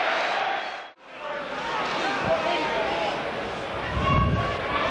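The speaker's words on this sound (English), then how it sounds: "Here he comes, accepting the applause, and deservedly so." A football crowd roars and applauds after an Ian Wright goal for Crystal Palace, a broad sustained swell of cheering under a commentator's voice.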